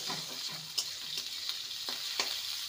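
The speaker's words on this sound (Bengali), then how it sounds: "আলু আর গাজরকে 2 মিনিটের মতো ভেজে নেব" Diced potatoes and carrots frying in a pan, with a steady oily sizzle and a few sharp scrapes from stirring, moderately close, and no voices.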